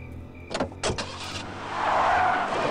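A car in the video game Full Throttle drives past with a short rushing engine whoosh, a faint skid-like squeal and rising motor noise over a few seconds.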